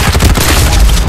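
Heavy continuous gunfire and booming blasts fill a Farlight 84 battle on mobile, loud and close, with rapid overlapping shots and low thuds throughout.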